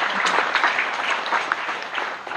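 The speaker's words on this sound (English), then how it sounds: "Give them a round of applause." An audience gives a round of applause, a dense burst of many hands clapping at once, loud and continuous for the full stretch.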